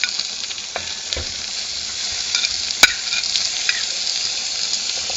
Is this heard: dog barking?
no